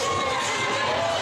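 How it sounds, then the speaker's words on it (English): A crowd at the MayhemMania wrestling event in Bacchus Marsh, Australia, cheers loudly in a brief, dense burst of roaring and shouting. "What a massive cheer from the crowd."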